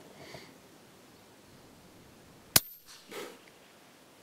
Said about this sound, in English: There was a shotgun sound.